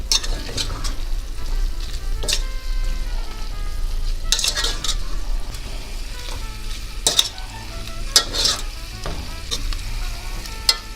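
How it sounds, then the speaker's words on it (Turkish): Chicken gizzards seasoned with red pepper flakes and thyme sizzle in a frying pan while a utensil stirs them, with a steady frying hiss broken by several sharp scraping strokes. "Şimdi karıştırıyoruz."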